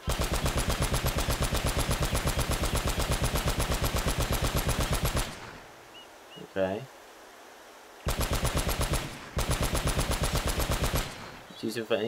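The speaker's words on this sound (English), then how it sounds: "Machine gun." Rapid, loud machine gun fire from the video game Uncharted: Drake's Fortune runs in long sustained bursts, broken by a short pause that holds a brief voice, then resumes.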